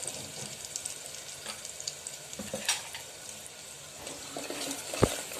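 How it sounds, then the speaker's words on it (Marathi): Phodni for dal sizzling quietly in a pan as turmeric and asafoetida go in, a soft, steady crackle with scattered spatters and a sharp clink near the end. "आपली फोडणी छान झाली"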